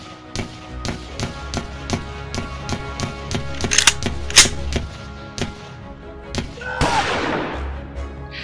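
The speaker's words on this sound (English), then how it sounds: "There's open fire everywhere. There's bullets whizzing by me like crazy." Gunfire sound effect for an acting demo reel, a rhythmic series of sharp close shots in steady succession, followed by a louder burst near the end.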